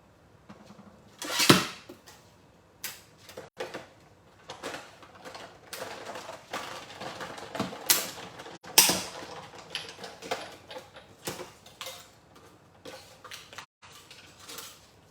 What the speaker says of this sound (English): So I'm going to run these through my cut and emboss.